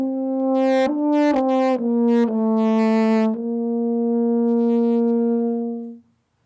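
A euphonium plays a short run of mellow, warm brass notes, stepping through several pitches before settling on one long sustained tone that fades out, alone and close.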